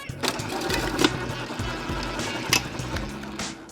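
Electric hand mixer creaming butter with confectioner's sugar in a kitchen, a steady mechanical whir with rattling beater knocks and occasional louder bumps, running continuously at close range.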